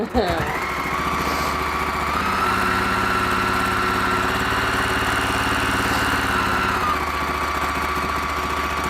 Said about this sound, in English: why is my machine not sewing me anything else?